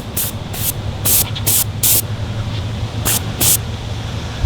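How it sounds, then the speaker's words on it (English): Quick-change airbrush spraying paint onto foam in short hissing bursts, about seven separate blasts of broadband spray over a steady low hum, fairly close. "what we want to do is paint it like we're spray painting it without melting the foam"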